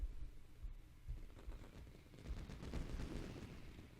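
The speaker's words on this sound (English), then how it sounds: "Wow, those fireworks are loud." Video game fireworks in Roller Coaster Tycoon 3: a dense, crackling burst of rapid explosive pops and rumbling booms, continuous and fairly loud, like a volley going off together.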